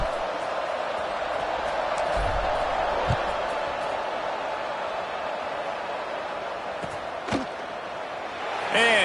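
A packed stadium crowd at a UNC vs Clemson football game roars steadily at kickoff, a broad, distant wash of noise with an occasional thud and a commentator talking over it.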